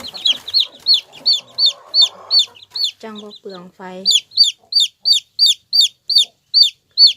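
Chickens near a farm light pole cluck in a fast, steady run of short calls, loud and close, with someone speaking briefly partway through and a few lower clucks breaking the rhythm.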